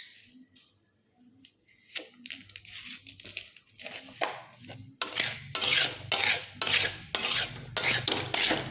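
A spoon clanks and scrapes through spices, oil pickle masala, ajwain, green chillies and whole five-spice mix in a large wok, starting with sparse taps and building into loud, rhythmic mixing strokes.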